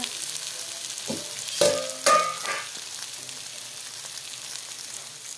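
Chicken tipped into a pan of fried spice masala, giving a couple of sharp sizzling bursts close up over a steady low frying hiss.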